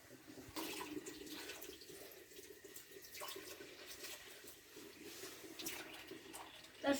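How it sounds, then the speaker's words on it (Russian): Tap water running over a sink while a cloth is rinsed at home, a low, moderately close splashing stream that shifts as the cloth moves under the faucet, with no talking. "Только водичку не разливай, там над краном мой ее, над краном."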